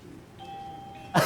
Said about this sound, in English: there goes that bell